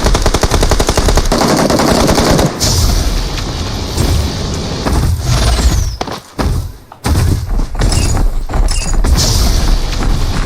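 Rapid automatic gunfire from the PUBG Mobile video game, loud and dense, comes in long bursts with heavy thuds and a couple of short pauses.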